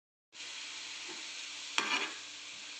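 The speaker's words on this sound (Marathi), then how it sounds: "फक्त दोन ते तीन मिनटं मेथीला मी ह्याच्यात फ्राय करून घेतो" Fenugreek leaves fry in a little oil in a pan, giving a steady close sizzle that starts abruptly and runs throughout, with one brief stir or clatter partway through.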